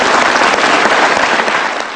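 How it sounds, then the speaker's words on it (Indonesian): Loud, continuous applause from a large audience, thick and steady throughout with no talking. "Kita kasih tepuk tangan untuk Romo."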